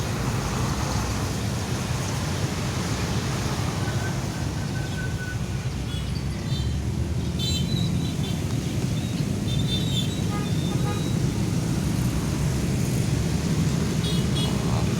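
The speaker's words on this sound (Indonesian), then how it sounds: "Bus yang dari arah Pulau Jawa banyak juga yang melintas." Buses and other traffic stream along a busy road in Palembang, forming a loud, continuous roar of engines and tyres with no distinct single pass-by standing out.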